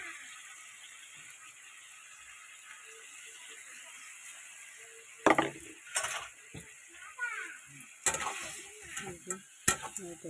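Tomato and onion paste with meat masala being stirred and fried in a pan, a quiet sizzle broken by several sharp spoon scrapes and clinks against the pan in the second half, close up, with no one speaking.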